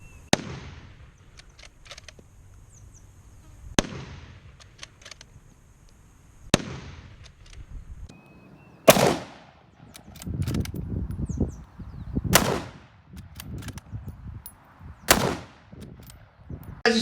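Gunshots from a firearm fitted with a Brinyte PT18Pro weapon light, fired during a strobe and pressure-switch test: several sharp, loud cracks spaced a few seconds apart, later ones closer together, with echoing rumble in between and no talking.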